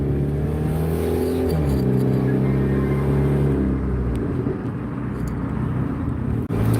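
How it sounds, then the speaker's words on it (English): McLaren sports car driving by outside, its engine a loud continuous rumble with rising and falling revs that fades toward the end, with no talk over it. "I saw it was a McLaren out there, and I had to take a picture of it"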